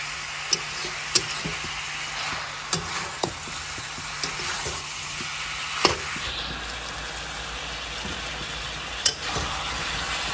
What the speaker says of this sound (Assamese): এনেকৈ এতিয়া আদা নহৰু দিয়াৰ পিছত 5 মিনিট সময় ভাজিব লাগিব